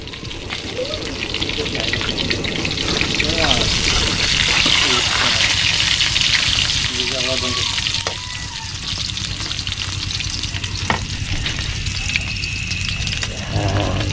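Hot oil sizzles and crackles steadily as fish fries, with a person talking over it and occasional clinks of utensils.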